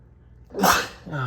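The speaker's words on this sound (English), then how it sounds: "Sorry, I had to sneeze." A single sharp sneeze bursts out close to the mic, followed by a brief breathy tail.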